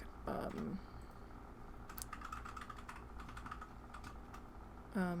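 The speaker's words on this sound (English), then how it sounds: "That's my keyboard." A computer keyboard clicks quietly in short typing bursts, with a brief louder sound near the start and another at the end.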